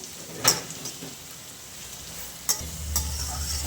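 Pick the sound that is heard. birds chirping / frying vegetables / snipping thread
frying vegetables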